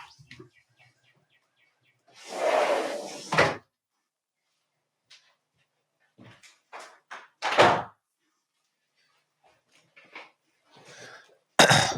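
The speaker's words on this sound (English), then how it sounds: "Let me close my door." Door being closed indoors, with scattered shuffling and handling noises, a cough-like burst, and a couple of sharp thumps as the door shuts.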